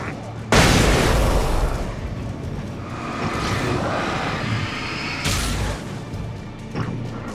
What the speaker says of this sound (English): It took me a moment to recognize the flashbang grenades.